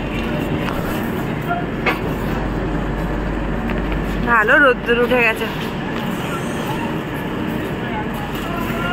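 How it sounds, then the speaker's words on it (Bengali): The Garib Rath Express pulls into Kishanganj station in the early morning, a continuous rolling rumble with a few brief metallic squeals midway, while a person speaks over it. "এখন ট্রেনটা ঢুকছে কিষানগঞ্জ।"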